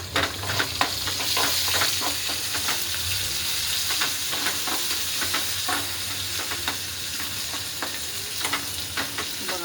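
Ginger garlic paste and onion fry in a pan for a potato dish, with a steady close sizzle under brisk, repeated spatula scrapes against the pan, continuous and without any talking.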